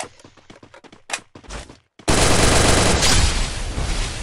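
Video game gunfire from Free Fire, beginning as short choppy bursts and then turning into a loud, dense, continuous fusillade that fills the rest of the clip.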